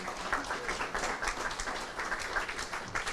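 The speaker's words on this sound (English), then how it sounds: "You all deserve a round of applause." An audience at a public forum claps together in a steady, dense patter that runs for about three seconds, fairly soft and somewhat distant, with no voice over it.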